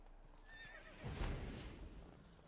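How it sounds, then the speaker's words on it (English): A horse in The Witcher 3: Blood and Wine gives a high, wavering whinny, followed by a louder snort and the thud of hooves close by. "Oh, there are horses. Let's get one."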